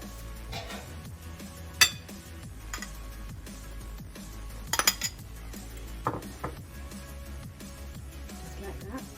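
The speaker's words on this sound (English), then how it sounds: "And we mix everything together." Meat filling with black pepper is mixed by hand in a bowl, with scattered clinks and taps of a utensil against dishware, close and fairly quiet, sometimes in quick clusters.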